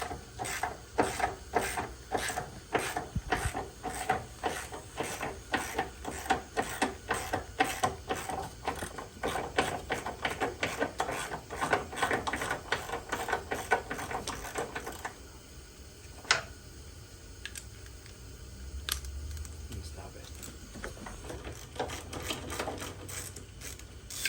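Rapid ratcheting clicks of a wrench backing out three 14mm subframe bolts on a four-door Honda Civic sedan, close and steady, pausing midway before a few sharper metallic clicks.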